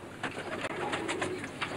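Racing pigeons in a loft give repeated soft, throaty coos in an overlapping rhythmic series, fairly close, with no talk over them.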